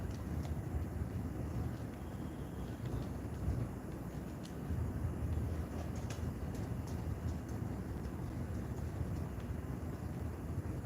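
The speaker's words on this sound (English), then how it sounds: "I'm driving a Deluxo, I think that's what it's called, the car jet" A Deluxo flying car jet in a video game roars with a steady, dense rushing hum that holds evenly throughout with no pauses.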